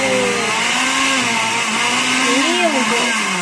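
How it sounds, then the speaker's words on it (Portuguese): A blender motor mixing homemade aloe vera conditioner whirs loudly and steadily, its pitch sliding up and down as the blades churn the contents, with no voices over it. "E é assim mesmo, vai pulsando aí o seu liquidificador."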